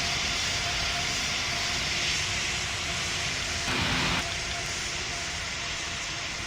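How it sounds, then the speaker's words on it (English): An airliner's engines roar at takeoff in the Roblox game Pilot Training Flight Simulator, a steady loud rumble with jet whine that holds throughout and swells briefly midway. "Condor 9170 cleared for immediate takeoff."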